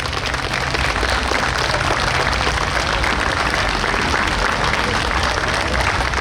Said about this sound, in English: we think it's those guys that deserve a real round of applause tonight